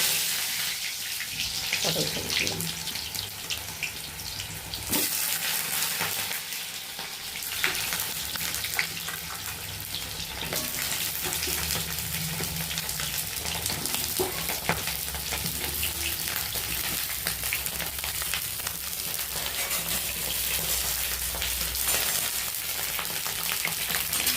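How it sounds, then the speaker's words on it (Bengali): Pointed gourd (potol) frying in hot oil in a wok, a steady, loud, continuous sizzle and crackle running throughout with occasional stirring scrapes and no talk. "কড়াইতে তেল দিয়ে দিলাম, তেলটা গরম হয়ে গেল, পটল ছেড়ে দিলাম।"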